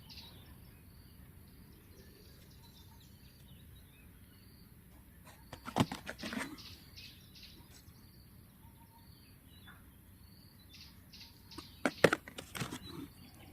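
Birds on a Saturday morning in Africa, faint chirps and calls sitting over a quiet insect-like background hum, with two louder bursts of sharp chirping around the middle and near the end.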